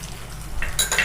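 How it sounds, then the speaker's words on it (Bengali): Ginger-garlic paste fries in a pan for dhaba-style matar paneer, with a soft steady sizzle and light utensil clinks and scraping that grow louder near the end of the short stretch. "এটাকে এখন ভালো করে এটাকে একদম ভেজে নেব"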